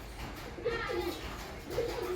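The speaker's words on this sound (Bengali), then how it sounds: "এটা আমার একটা টেডি মাদি পায়রা" A teddy female pigeon in a home loft coos in a few soft, low, rolling phrases close by, against a steady background hum.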